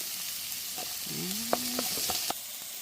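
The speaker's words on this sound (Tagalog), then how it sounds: "Lagay po ulit tayo ng mantika, panggisa po. Lagyan natin yung bawang." Garlic and onion sautéing in hot cooking oil, a steady close hiss of frying with a few light clicks of stirring, no talking.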